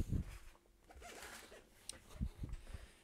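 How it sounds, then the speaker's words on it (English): A zipper on a Czech army bivy bag, a sleeping bag cover, is pulled in quiet, close, scratchy bursts that start and stop, with no voices. "The annoying thing is the zips doesn't go way round"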